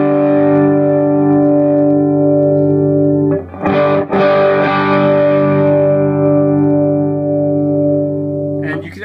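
A sustained electric guitar chord rings out with a gritty, overdriven tone through a JHS Superbolt pedal in a neutral setting, briefly broken by a scratchy strum before ringing on, loud and close.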